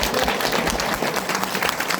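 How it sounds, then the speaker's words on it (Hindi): Audience at a Nepali business talk giving loud, dense applause, a steady wash of many hands clapping close and full for the whole short stretch, with no talk over it. "एकचोटि फेरि जोरदार ताली।"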